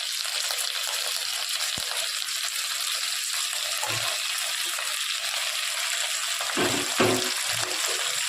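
Onions and green chillies frying in a pan for mutton curry give a steady, close sizzle, with a few soft clinks and watery splashes near the end.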